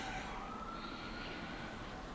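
Emergency vehicle sirens wailing far off outdoors, a faint rising and falling tone drifting over a steady low background hum.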